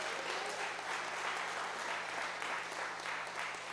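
A church congregation applauds together during a sermon, steady dense clapping filling the room at an even level throughout, with no voices standing out above it.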